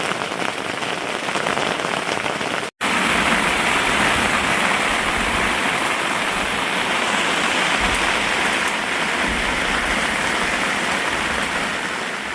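Heavy rain drums steadily and loudly on an inflatable tent during a thunderstorm, a dense, continuous patter heard close by with no voices.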